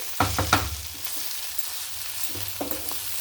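A spatula scrapes and taps against a pan as carrot, beetroot and coconut curry is stirred on a low flame, a few distinct clatters over a soft, continuous sizzle.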